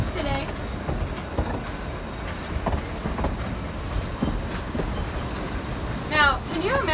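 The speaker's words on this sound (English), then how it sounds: "So there's your side shot of the loco. Locomotive 486 today." Steam locomotive 486 on the Durango & Silverton narrow-gauge High Line, rolling around a long curve with a steady rumble and clatter of wheels, while someone talks over it.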